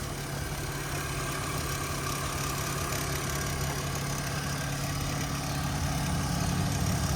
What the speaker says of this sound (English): I'm gonna show you guys what this motor sounds like running.